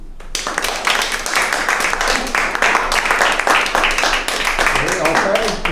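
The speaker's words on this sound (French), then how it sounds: "On applaudit." A crowd applauding at a workshop gathering, dense steady clapping that fills the whole stretch at close range, with voices mixed in under it.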